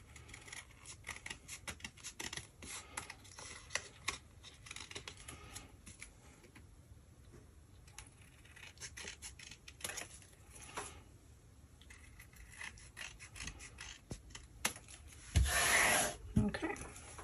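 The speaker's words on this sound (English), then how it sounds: "trim the photo to match" Quiet snips and rubbing of scissors trimming a photo for a 10x8 travel album, a scattered series of small cuts and paper rustles, with a louder burst of rustling near the end.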